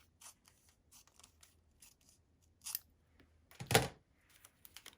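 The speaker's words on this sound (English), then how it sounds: "you could come in here and just trim that down ever so slightly" Scissors snip through the edge of a quilt block in a few quiet, separate cuts, with one louder, fuller snip near the end and soft fabric handling between them.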